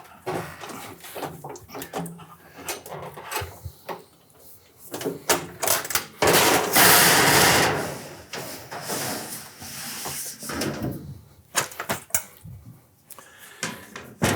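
Metal flashing being bent on a Van Mark brake, with clattering and rattling metal handling followed by a loud sustained rush of sheet metal flexing, then more scattered clanks and knocks nearby.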